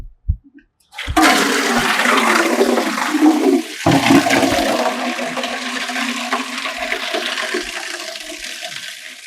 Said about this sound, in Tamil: திடீர்னு தண்ணி இவ்வளோ வேகமாக வருது.